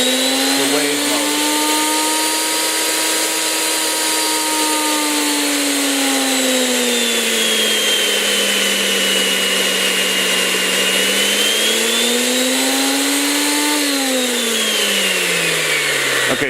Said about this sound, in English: you heard how that pump got louder and quieter. Well, it's the speed's changing